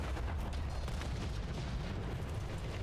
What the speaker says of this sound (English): That artillery did some damage